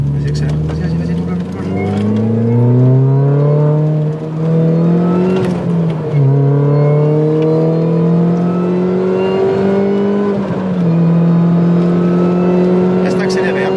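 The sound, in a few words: car accelerating while overtaking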